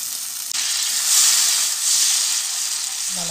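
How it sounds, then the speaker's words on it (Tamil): Tamarind water is poured into sautéed tomatoes for egg curry and bursts into a loud, close sizzle that swells and fades over a few seconds. "இப்போ நம்ம கரைச்சி வச்ச புளியை இங்கே கொஞ்சம் சேர்த்துக்கலாம்"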